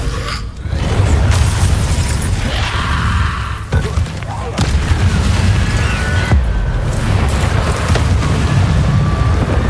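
Confringo fire-blast spell explosions in Hogwarts Legacy, with a dense, roaring barrage of loud booms and crackling blasts running continuously, broken by brief sharp impacts.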